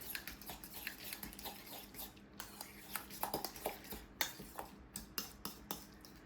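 An egg slicer chops boiled eggs with a quiet run of light metallic clicks and taps, close by and soft, as the eggs are readied for a summer salad with mayonnaise and mustard.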